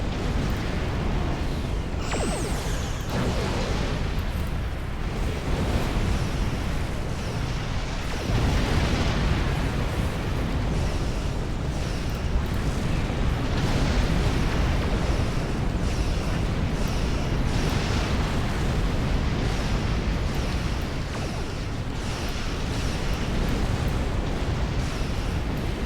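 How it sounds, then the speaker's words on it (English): Spore explosions set off by three gravity wells in a video game build into dense, continuous rumbling blasts and booming bursts, loud and layered throughout with no speech. "3 gravity wells doing the Spore Explosions."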